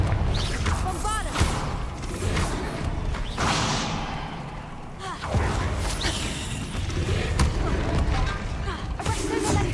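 Spell blasts from Confringo and Bombarda in Hogwarts Legacy, a dense run of booming impacts and crashes under continuous game noise, with a few sharper hits standing out over a busy, loud background.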